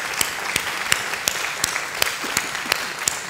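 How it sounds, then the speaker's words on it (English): Enthusiastic audience applause at a Houston Ballet talk, a close, dense wash of clapping with crisp individual claps recurring in an even rhythm. "so give them a really big round of applause"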